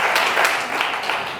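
A room at a civil wedding in Brazzaville bursts into applause for a couple: a brief, dense wash of clapping that holds steady and loud from start to finish.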